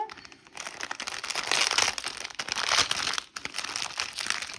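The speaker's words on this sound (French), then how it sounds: "Alors, on va déballer la petite chose." A small AliExpress package is unwrapped close up, with continuous crinkling and crumpling of the packaging that rises and falls in bursts for several seconds.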